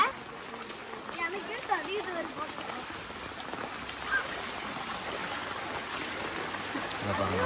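Floodwater rushes along a residential street during heavy Chennai rains, a steady broadband gush and trickle that continues under a person talking nearby.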